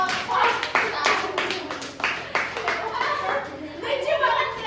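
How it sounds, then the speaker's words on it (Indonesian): A class of sixth-grade children claps for a group of classmates, scattered, uneven hand claps close by, mixed with children's voices and chatter throughout. "Oke, tepuk tangan untuk kelompok 1"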